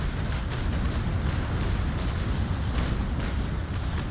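Broadside of ship cannons firing in the naval battle game Naval Action, a dense rumbling barrage of heavy booms rolling continuously with no pauses.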